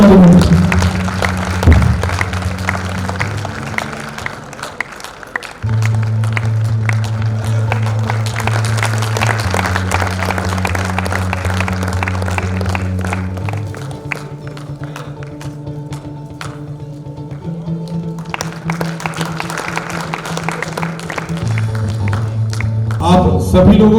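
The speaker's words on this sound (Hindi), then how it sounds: "जोरदार ताली बजाकर उनका अभिनंदन" An audience at a rural-media excellence awards ceremony in Bhopal applauds steadily, the clapping running beneath sustained, loud background music for the whole stretch.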